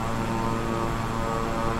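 Twin turboprop drone of a King Air 350i in Microsoft Flight Simulator, a steady, loud, even engine hum with no talk over it.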